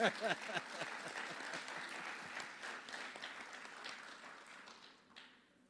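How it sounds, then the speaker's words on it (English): A crowd applauds with dense, steady clapping that gradually thins and fades over several seconds, with a few scattered cheers near the start. "One more round of applause for her."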